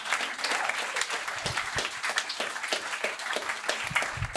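A comedy show audience clapping steadily for a few seconds, dense applause at a fairly loud, even level with no talking.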